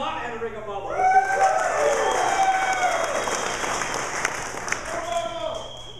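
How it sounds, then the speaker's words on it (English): An audience at a startup panel on angel investors versus venture capitalists bursts into applause and scattered cheering, a broad rush of noise that swells and holds for several seconds, with a voice speaking just before and after. "I need you to applaud or yell or something."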